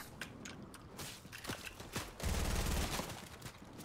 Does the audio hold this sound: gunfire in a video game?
yes